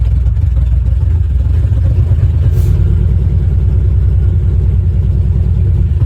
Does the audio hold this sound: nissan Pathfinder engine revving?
yes